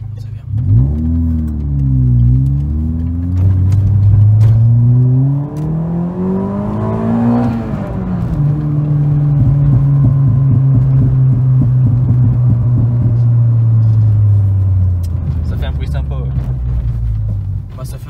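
A Peugeot 206 RC with a naturally aspirated engine drives along, its engine note rising and falling through several revs and gear changes, a loud steady drone from inside the car with speech over it.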